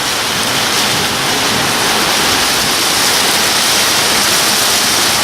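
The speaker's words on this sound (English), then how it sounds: "We have a thunder and lightning storm coming through. And we've got, whoa, downpour" Heavy rain pouring down in a thunderstorm, a dense, loud, unbroken hiss of a downpour filling the whole stretch with no talking over it.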